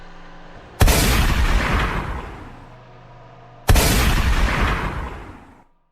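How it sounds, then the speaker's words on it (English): Two loud, close gunshots as a sound effect, each a sharp boom that rolls off slowly over about two seconds, spaced a few seconds apart with no talking. "Another gunshot."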